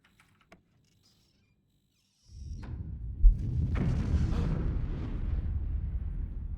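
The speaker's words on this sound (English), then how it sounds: "You hear a thunderous explosion." A deep, thunderous explosion in the video game Three Minutes to Eight bursts in after a near-silent stretch, then rolls on as a loud, sustained low rumble with a sharp thud near its start.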